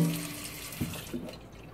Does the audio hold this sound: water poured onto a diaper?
yes